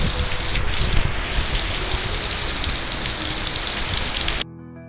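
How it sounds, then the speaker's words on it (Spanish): Heavy rain pours steadily at night in a dense, close wash of drops hammering surfaces, continuous and loud, then cuts off abruptly near the end. "esta lluvia que era bastante fuerte, como se aprecia"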